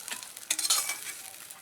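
Pieces of shol fish fry in hot oil with a close, crackling sizzle, broken by a few brief stirring scrapes over the short moment.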